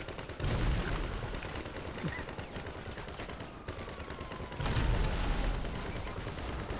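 Gunfire in the video game GTA V, a continuous dense barrage of rapid shots and booms that runs throughout, swelling louder in two heavy bursts.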